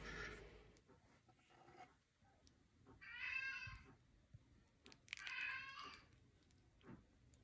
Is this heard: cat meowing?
yes